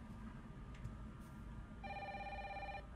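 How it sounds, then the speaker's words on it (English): Telephone ringing in the Resident Evil 3 video game: an electronic double-tone ring bursts in about a second long over a low game ambience, with no talk. "I really should just sit here and see how long this fucking phone will ring."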